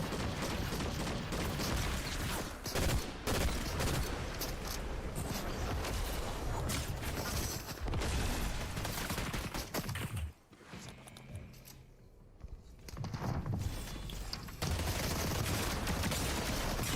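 Dense, continuous gunfire from the video game Fortnite, with rapid bursts and booms filling most of the stretch, a brief quieter lull near the middle, then the shooting resumes loud and close.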